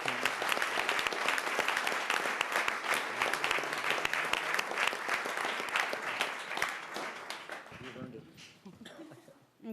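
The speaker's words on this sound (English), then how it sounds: "Ladies and gentlemen, let's give them a great round of applause." Audience applause at a Folsom City Council meeting, a sustained, dense round of clapping filling a large room, with voices mixed in, tapering off near the end.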